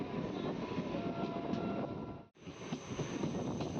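A train carriage on the Vijayawada line rumbles steadily from inside, heard from the rear of the train, with a continuous low clatter that briefly cuts out before resuming.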